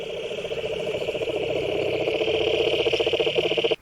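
A frog or cricket chorus in nature pulses in a fast, rhythmic trill, loud and close and continuous until it stops abruptly.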